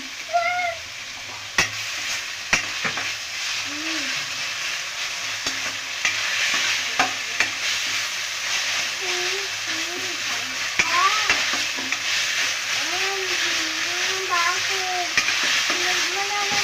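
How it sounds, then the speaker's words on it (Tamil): Ginger and garlic sauté in a hot pan for a dahi bhindi masala gravy, giving a loud, steady sizzle with occasional stirring scrapes throughout. "அந்த இஞ்சி பூண்டு நல்லா வதங்கட்டும்."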